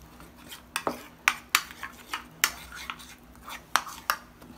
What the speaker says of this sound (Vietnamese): Rồi, chúng ta trộn đều hỗn hợp.